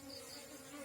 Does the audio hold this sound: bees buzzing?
yes